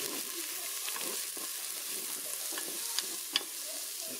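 Onion, garlic and ginger fry in olive oil on a cooker, a steady close sizzle with stirring scrapes and a couple of sharp utensil clicks near the end, no voices.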